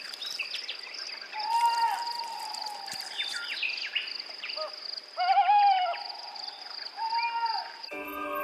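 Owl hooting at night in an African juniper forest: several drawn-out calls spaced a few seconds apart, moderately close, over a constant high insect drone.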